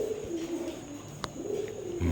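Saharanpuri pigeon, a green-necked breeding pair, coos softly at close range in low repeated murmurs over background hum, with a brief sharp click partway through.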